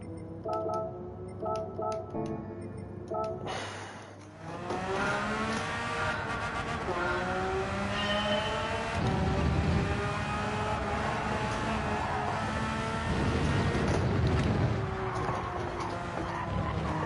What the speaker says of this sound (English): A bit of a snap of oversteer.